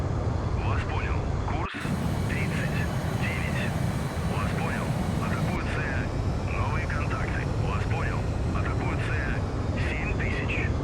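Sustained roar of many aircraft passing overhead in a naval combat game, a broad steady drone filling the whole stretch with brief chirpy tones on top, and someone speaking over it.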